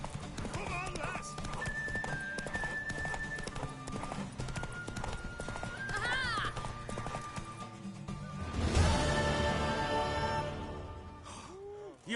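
Horse hooves pound in a rhythmic clip-clop gallop in The Witcher 3, a continuous fast beat running under speech and background music, with a neigh and louder hoofbeats late on.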